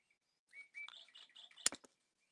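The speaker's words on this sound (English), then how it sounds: "There's my chirpy bird." Pet bird chirping indoors, a quick faint series of high tweets and twitters ending with a sharper burst of sounds, then silence.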